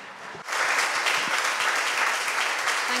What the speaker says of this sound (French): applaudissons-les